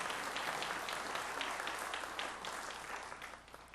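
Church congregation applauding in welcome of a visiting pastor during a worship service, a steady wash of many hands clapping that fills the clip and thins slightly toward the end.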